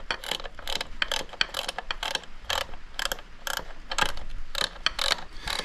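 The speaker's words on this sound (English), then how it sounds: "That's our nylock nut on. Now, I don't think we go over tightening this too much" A ratchet clicking rapidly as a nylock nut is tightened on a Royal Enfield Classic 350 motorcycle during speedometer work, loud and close, in fast even bursts of metallic clicks with no talk.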